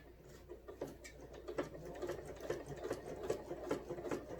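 A sewing machine stitches in the ditch on a quilt, whirring in short, quiet runs with a soft rhythmic needle patter nearby.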